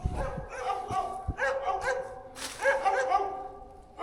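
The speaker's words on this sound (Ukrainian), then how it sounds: "Ото там собаки, да, він там і живе." Several dogs bark and yip near a hermit's hut in a rural outdoor area, a quick overlapping series of sharp barks at moderate distance with some whimpering between them.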